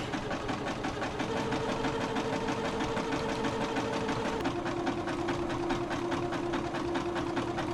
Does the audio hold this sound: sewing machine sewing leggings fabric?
yes